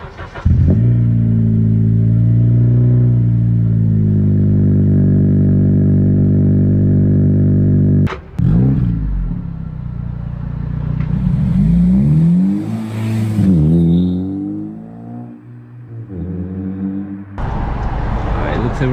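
A 9th-generation Honda Civic Si fitted with an inexpensive aftermarket Amazon exhaust muffler idles with a steady low drone, then revs loudly with rising and falling engine sweeps close by.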